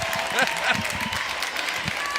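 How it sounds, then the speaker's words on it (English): A crowd in a gym at a girls' basketball district tournament final cheers and claps, loud and dense, with voices talking over the noise. "Listen to the crowd."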